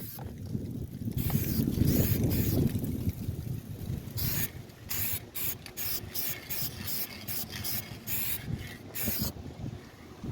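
A spray can hisses paint onto a 2021 Volkswagen Atlas rim being repaired, in several short bursts spread across the clip, each close and fairly loud, with a rough rubbing noise underneath.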